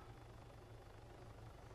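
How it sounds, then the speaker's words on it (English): In an Arma 3 game, a helicopter approaches with a low, steady rotor thrum and engine drone, faint and continuous throughout. "Helicopter's coming in"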